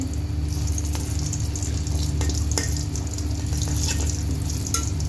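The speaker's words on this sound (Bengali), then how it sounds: "ফাইনালি বেগুন ভাজা হয়ে গেছে।" Eggplant slices frying in a pan give a constant, close sizzle throughout, with occasional faint clicks and splashes over the steady bubbling.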